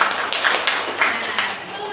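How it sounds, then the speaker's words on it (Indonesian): Classroom applause from a group of students, a brief burst of many hands clapping with irregular sharp taps over a couple of seconds, with voices mixed in. "Tepuk tangan dulu."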